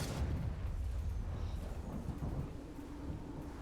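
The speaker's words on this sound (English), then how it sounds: "Lightning storm isn't doing too much for him, as it's doing for us." A lightning storm ability strikes during a Mechabellum battle, a real-time strategy game: a loud, continuous thunderous rumble with crackling texture rolls on throughout, slowly easing, with no voices.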